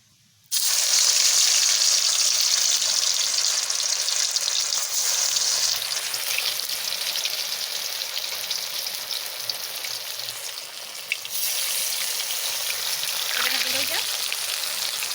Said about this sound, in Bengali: তেল গরম হয়ে গেছে আমি বসাই দিয়ে যাচ্ছি